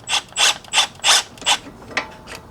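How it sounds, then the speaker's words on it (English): Ratchet clicking in six quick bursts as an 18mm sway bar link nut is broken loose on a W212 Mercedes-Benz E63 AMG suspension, each burst a close, crisp run of pawl clicks with short pauses between. "The sway bar link is held by one 18mm nut. I'm going to break it loose"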